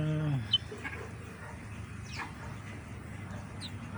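Faint, high chirping peeps from chicks, a few scattered calls over a low background rumble, with a brief murmur at the start.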